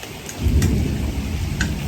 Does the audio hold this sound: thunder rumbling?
yes